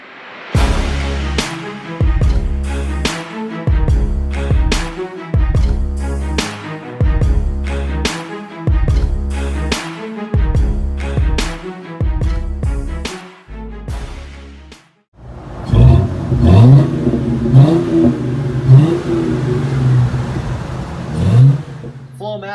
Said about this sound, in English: Flowmaster Super 44 mufflers gives this V6 the tone it deserves.